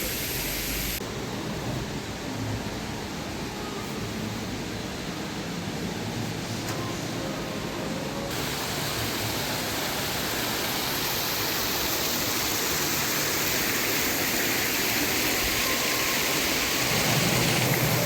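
Continuous splashing water from an indoor fountain in Mall of Qatar fills the space, a dense, steady hiss of falling water that grows a little louder over time.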